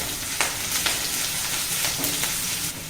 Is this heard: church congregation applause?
no